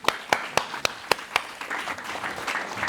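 Audience applause at a master class with Cyrille Masso, opening with a few sharp, separate claps that swell into a steady wash of clapping from the room, fairly close and loud.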